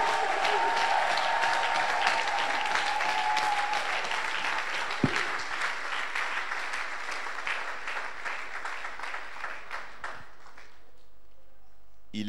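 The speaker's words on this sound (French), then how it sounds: "Est-ce qu'on peut acclamer le roi de gloire?" A church congregation claps and cheers in sustained, dense applause with a raised voice or two mixed in, holding strong for about ten seconds before cutting off into near quiet.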